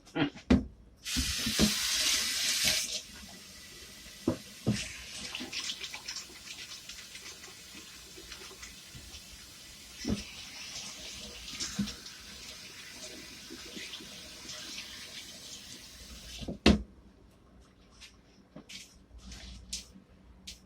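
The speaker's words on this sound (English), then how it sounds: "Let me wash my hands first." Tap water runs into a kitchen sink as hands are washed while burgers are prepared, a steady broadband hiss for the first few seconds, then quieter splashing and occasional clatter, with a louder knock near the middle.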